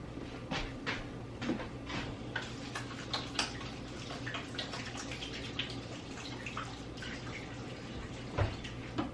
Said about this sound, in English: let me get my hands washed